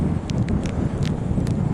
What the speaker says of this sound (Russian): Но ветрище, метель капитальная